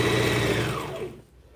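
A sewing machine stitching a hooded khimar whirs quickly and rhythmically up close, then slows and stops about a second in, leaving near silence.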